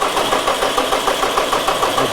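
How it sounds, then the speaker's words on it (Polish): A tractor engine that is hard to start is cranked over and over by its starter, giving a loud, close, rhythmic churning that repeats without catching. No voices are heard. "Bardzo długo trzeba kręcić tym silnikiem, żeby Uruchomił, może, może uruchomi."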